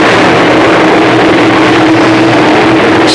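Late model stock cars accelerate in a pack at the green flag of a heat race on a short oval, a loud, dense engine roar that stays steady and saturated throughout.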